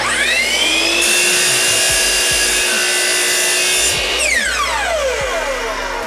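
A greased metal saw blade cutting along a marked line while a cosplay armor frame is being built, a loud, close, continuous grinding rasp with a shifting high whine that drops in pitch near the end.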